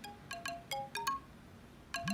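A phone ringtone for a call from the office: a bright, repeating melodic chime of short high notes, faint and alone, with a brief pause before it plays again.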